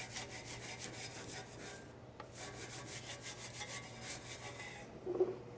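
Detailing brush scrubbing a car wheel during a winter wash to remove road salt, faint steady rapid back-and-forth rubbing strokes with a short pause midway.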